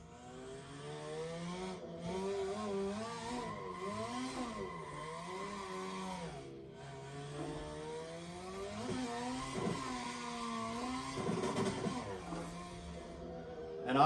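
A car drifts in Assetto Corsa, its engine revving up and down in wavering pulls while tires squeal and scrub, steady and moderately loud with no talk.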